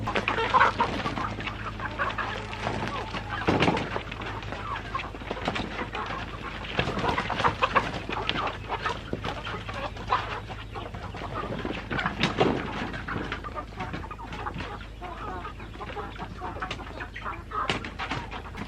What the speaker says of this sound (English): If you hear all of that noise, my daughter is feeding the meat chickens